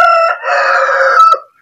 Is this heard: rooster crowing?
yes